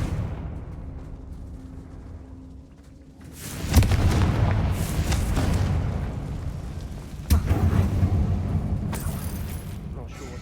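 A Confringo fire spell detonating in Hogwarts Legacy inside a closed tomb-like mine: a deep, rumbling boom swells and sustains for several seconds, followed by a second heavy blast, loud and close over a low ambient drone.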